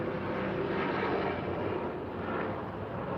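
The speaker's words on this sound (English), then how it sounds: "Oh, you heard the helicopter." A helicopter flying overhead, a steady loud broadband rotor and engine roar that fills the whole stretch without a break and fades only slightly near the end.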